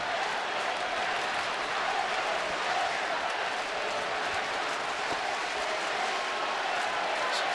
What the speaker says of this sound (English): Sounds like a college crowd as they try to shout each other down.